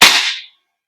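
A single sharp, loud pop from a gas blowback airsoft pistol fired close by, freshly filled with gas, with a quick hissing tail that dies away within half a second.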